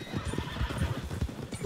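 A horse in the Red Dead Redemption video game snorts and whinnies over a busy patter of hooves, close and moderately loud, a dense rumbling mix without talk.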